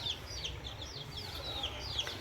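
Deki hens and a small rooster on a small farm keep up soft overlapping clucks and high chirping calls over a low steady background hum, fairly close.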